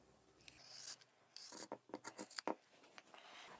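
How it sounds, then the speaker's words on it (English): Scissors cutting through a quilted fabric table runner near the stitching line, a short series of close, crisp snips and rasping cuts after a quiet rustle. "Grab your scissors. We're going to cut"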